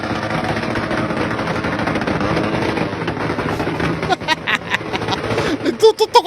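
A loud motorcycle exhaust roars in a dense, steady rumble, then breaks into sharp crackling pops and bangs near the end, with voices faintly underneath.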